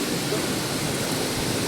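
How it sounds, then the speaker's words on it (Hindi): Steady broadband rush of a waterfall in Sainj Valley, Himachal, a dense continuous roar with no clear breaks, fairly loud and close. "ये रहा वाटरफॉल"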